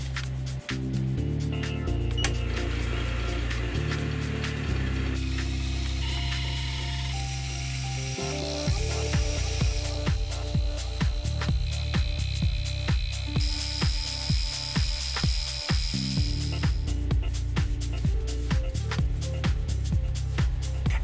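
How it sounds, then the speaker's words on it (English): A shop-made flycutter with a heavy disc resurfaces an aluminium block. A steady mechanical whir gives way to a fast, regular train of sharp ticks as the cutter strikes the metal, loud and close, with no voices. "the first thing I'm going to do is to give it a light resurface with this flycutter"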